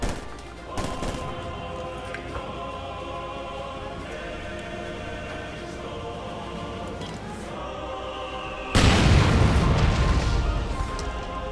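Steady rattling bursts of suppressive anti-aircraft machine-gun fire from an M16 halftrack (ZIS M17 MGMC) in Company of Heroes 2, continuous under a dense battle din, with a loud heavy explosion roaring in near the end.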